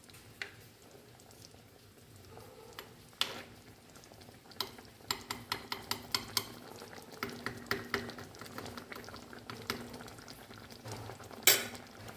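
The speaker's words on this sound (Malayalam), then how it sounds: "നമുക്കിത് വെള്ളം കൂടി ഒന്ന് യോജിപ്പിച്ച് ഇളക്കി കൊടുക്കാം" Ripe mango pulissery curry with added water is stirred in a pot on the stove, a utensil clinking rhythmically against the metal in a run of sharp taps over a soft bubbling simmer.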